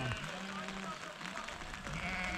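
Sheep bleat in the Retezat Mountains during a rainy, stormy drive up to pasture. Several overlapping calls sound through steady wind and rain noise, with people talking nearby.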